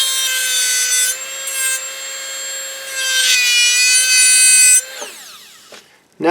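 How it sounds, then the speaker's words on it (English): A dental trim bur bevels the edges of an acrylic complete denture with a loud, continuous high-pitched whine and grinding, shifting in pitch over several seconds, then stopping abruptly as the bur winds down. "Very simple to do using my trim burr."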